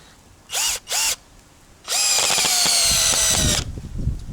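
A Vitals 18V cordless drill whirs in two short bursts, then runs longer at maximum speed as it drives a screw into wood, the motor pitch sagging under load before stopping.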